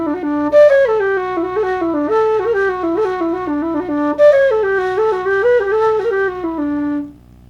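A low whistle plays a flowing melody of sustained, breathy notes with quick ornaments, close and clear, ending with a held note that fades.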